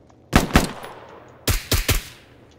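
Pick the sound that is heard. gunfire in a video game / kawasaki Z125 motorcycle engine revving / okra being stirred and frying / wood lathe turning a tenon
gunfire in a video game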